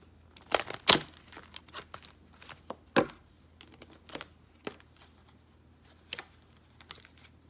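Tarot cards being handled and shuffled close by, giving irregular crisp riffles and slaps: a loud burst near the start, then scattered softer flicks and taps.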